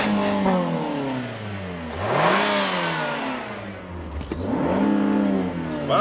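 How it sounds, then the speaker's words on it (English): A 2014 Nissan Rogue engine is revved repeatedly toward redline, rising and falling in pitch in several sweeps, fairly close and loud, with a little talk faintly underneath. "Wow, Nathan, it lets you actually rev it. Yeah, all the way up to redline."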